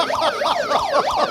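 Loud wailing siren, the kind set off at a restaurant when a big torta food challenge begins or ends, sweeping up and down in steady repeated cycles throughout with no talking.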